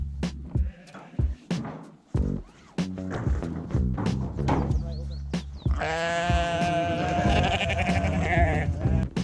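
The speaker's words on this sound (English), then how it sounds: "it was time to get back to check on the sheep in the shed" Sheep bleat repeatedly inside a shed on a Scottish Highland farm during lambing, with several close, loud calls and a long wavering cry, among thumps and rustling of animals moving about.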